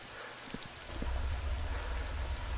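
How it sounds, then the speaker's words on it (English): Rain falling in the survival video game DayZ, a soft, even wash of rain that swells slightly partway through and runs steadily to the end, with no voices. "We've got some rain coming down now"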